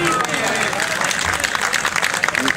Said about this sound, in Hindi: अंबर बुखारी साहब के लिए बहुत सारी तालियां जी